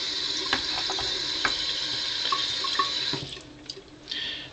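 Water being splashed and worked across a sharpening stone being lapped on sandpaper, a wet swishing and trickling with small scattered taps, close and steady throughout.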